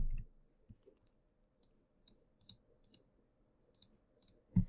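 Sparse, soft clicks of someone typing random text on a computer keyboard, in scattered small clusters over a quiet background.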